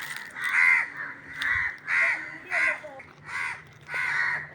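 A crow caws repeatedly in a steady rhythm, about six harsh calls spaced evenly, fairly close and clear over a quiet background.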